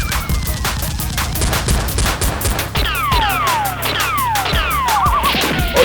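Rapid bursts of toy Nerf gun fire in a staged indoor fight, loud and close, with repeated clacking shots and whistling darts overlapping.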